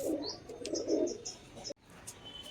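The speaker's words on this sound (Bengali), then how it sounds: "এবার এক জোড়া কালো পায়রা দেখাচ্ছি, আমার বাড়িতে এক জোড়াই কালো পায়রা আছে" A pair of black pigeons kept at a house coo softly through the opening stretch, with a few light chirps mixed in. A brief sharp click cuts the sound off, and then it stays quiet.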